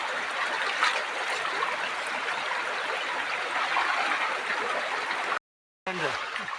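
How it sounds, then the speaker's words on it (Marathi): A clear forest stream flows steadily on a trekking route, a continuous close rushing and trickling of water broken by a brief cut near the end. "आता तुम्ही पाहू शकता किती स्वच्छ पाणी आहे बघा."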